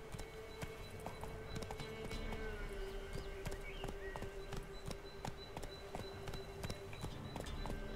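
A horse gallops in the video game Witcher 3: Wild Hunt, its hooves pounding in a steady rapid rhythm over a constant droning game soundscape, with no talk.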